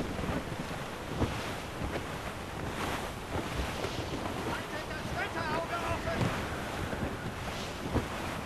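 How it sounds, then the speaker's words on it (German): Stormy gusts of wind at sea in Assassin's Creed Rogue, a constant roaring rush over crashing waves and creaking ship sounds, loud and steady with occasional surges. "Sturmböen kommen auf, Captain."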